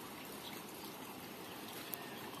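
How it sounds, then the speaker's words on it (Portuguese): Steady, fairly faint rush of rainwater trickling and flowing down into a small pond in the Pernambuco backlands, continuous with no voices. "o barulho da água descendo para o açudinho"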